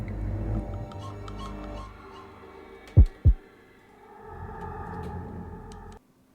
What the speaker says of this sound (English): Why are my heartbeats slowly getting farther and farther apart?